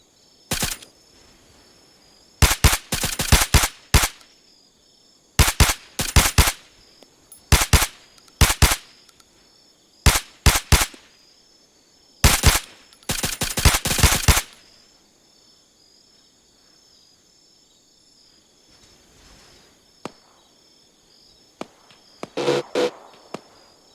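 Machine gun fire in the video game Arma 3 during a military simulation operation, sharp loud automatic bursts repeating in clusters with quiet gaps between, tailing off into a few fainter scattered shots.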